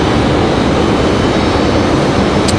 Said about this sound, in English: American 2683 now turning on final here from Dallas Fort Worth